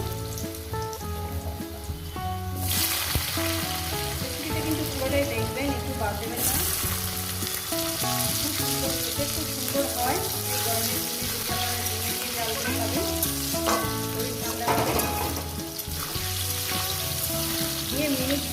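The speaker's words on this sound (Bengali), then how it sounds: "আমি আলুটাকে ভেজে নিচ্ছি" Potatoes fry in a pan with a tempering of five spices, a loud, dense crackling sizzle heard up close and continuously, with occasional stirring scrapes.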